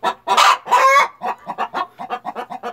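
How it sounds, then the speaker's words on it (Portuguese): Tame hens, including a naked-neck hen, cluck in a henhouse at laying time, with a few louder squawks at first, then a steady run of short, close clucks. "Todas as galinhas são mansinhas, olha."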